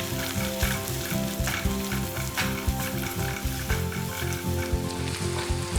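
Chopped shallots fry in hot oil with curry leaves for a curry leaves chicken, a steady close sizzle with intermittent stirring scrapes throughout and no talk.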